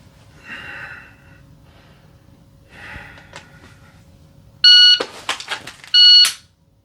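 Faint breathy sounds give way to two loud electronic beeps from a shot timer during pistol draw practice, the first followed by sharp gunshots in between.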